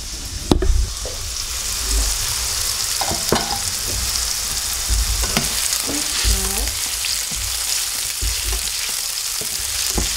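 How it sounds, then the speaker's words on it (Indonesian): Rice vermicelli noodles with tofu and mushroom sizzle steadily in hot oil as they are stir-fried, with intermittent scraping and clinking of a utensil against the pan, close and continuous. "Kita goreng stir fry sebentar."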